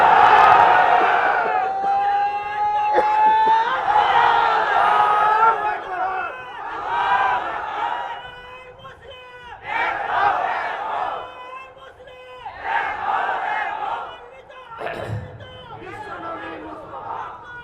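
A large crowd at a religious gathering shouts the takbir response together in loud, rising waves of massed voices, repeated several times with brief gaps between.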